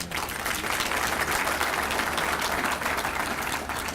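An audience at a Queen's Birthday Party gathering applauds the chief guest with dense, sustained clapping that stays loud and even throughout, crowd-wide and close, with no speech over it.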